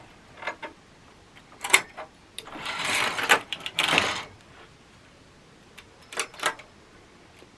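A knitting machine carriage knits two rows with wire, giving a close mechanical clatter and sliding rasp, with short clicks followed by a longer dense sweep and then more scattered clacks, and no voice.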